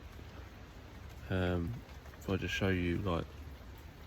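Steady rain patters on and around a woodland shelter, a constant hiss of drops running throughout while someone talks briefly over it.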